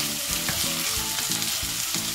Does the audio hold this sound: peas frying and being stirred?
yes